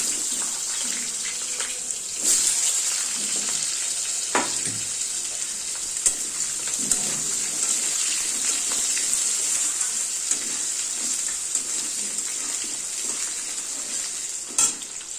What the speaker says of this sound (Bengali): এর মধ্যে আলুগুলো ভেজে নেবো